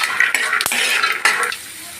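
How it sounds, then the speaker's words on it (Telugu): Peanuts roasting in oil in a pan, crackling and sizzling loudly up close with scraping stirring sounds and a few sharp pops. "పల్లీలు వేపుకునేటప్పుడు ఇది ఇలా చూడండి పటపట అవుతున్నాయి"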